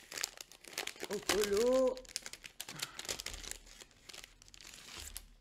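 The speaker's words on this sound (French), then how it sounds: "L'invitation, ouais, je vais l'ouvrir avec vous." Paper crinkling and tearing as a mail-order invitation envelope from a Jardin d'Aquarelle coloring order is torn open, a loud rip in the middle, with someone talking around it.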